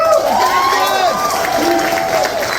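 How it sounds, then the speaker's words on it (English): A high school theater awards show audience claps and cheers loudly and continuously, with whoops and shouting voices layered over a dense wash of applause. "can we give a round of applause for the people who made this night possible?"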